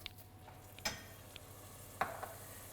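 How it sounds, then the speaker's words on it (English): Risotto rice in a pan gets wine stirred in, giving a faint low sizzle under a few light scrapes and clinks of the spoon against the pan, with no voices. "Now at this stage, we can add the wine."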